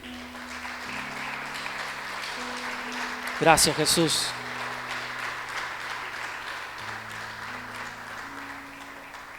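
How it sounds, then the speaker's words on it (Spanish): A church congregation applauds, a broad wash of clapping beneath a steady keyboard, with a spoken voice rising briefly over it partway through. "Dale un aplauso fuerte a Él."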